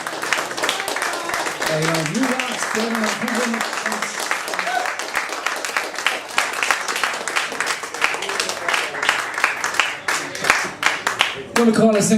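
Audience at a Tuam culture night event clapping hands, a steady dense patter of applause running throughout, mixed with music and a voice speaking over it.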